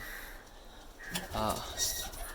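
A brief, soft coo from a young pigeon, offspring of a white male, rises near the middle, low and throaty, over a quiet background with faint stirring.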